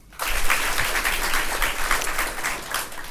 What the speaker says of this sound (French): c'est tout le monde qui applaudit